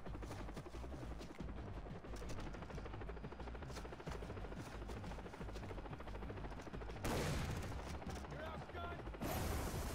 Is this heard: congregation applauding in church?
no